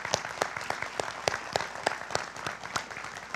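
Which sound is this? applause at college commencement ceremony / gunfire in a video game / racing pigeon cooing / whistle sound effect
applause at college commencement ceremony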